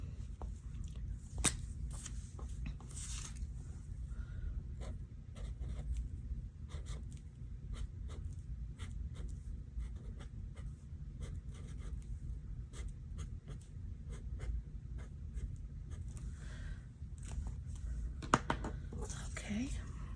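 Pen or pencil scratching as a word is written into a crossword puzzle, soft close strokes and taps over a steady low background hum.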